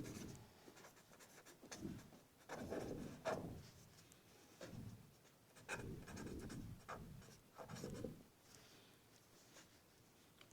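Pen strokes scratch across paper while a class 6 maths exercise is worked out, in short uneven bursts of close, soft rubbing with brief pauses between them.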